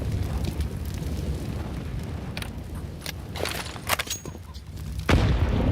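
Explosions from an HE grenade and an incendiary in a Counter-Strike match at a pro tournament: dense crackling gunfire and burning noise with several sharp bursts, ending in a loud boom near the close.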